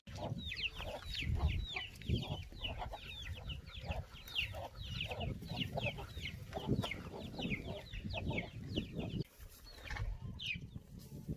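Chickens in a rural French garden clucking repeatedly at close range, a busy overlapping run of short clucks that continues throughout with no talk.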